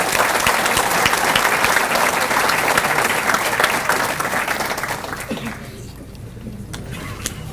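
Audience at a university scholar-athlete banquet applauds student athletes with sustained, dense clapping that fills the room, then gradually thins and fades toward the end.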